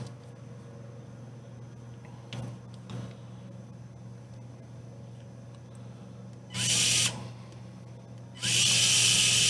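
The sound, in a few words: small screw being fastened into pickup truck model cage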